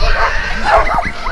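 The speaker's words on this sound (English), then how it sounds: "No barking." Several dogs on a farm yipping, whining and barking in quick overlapping bursts, close and loud, with a person's voice mixed in.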